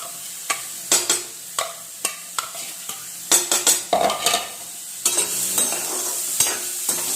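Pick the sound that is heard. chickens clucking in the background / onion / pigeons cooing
onion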